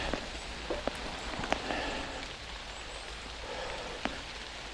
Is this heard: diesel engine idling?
no